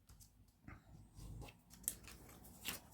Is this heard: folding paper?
yes